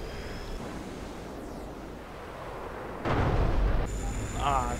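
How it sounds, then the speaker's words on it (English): Cluster bombs dropped from a MiG-21 in the DCS flight sim game burst into a rumbling, roaring explosion after steady engine and wind noise, followed by a second swell. "There we go, bombs away."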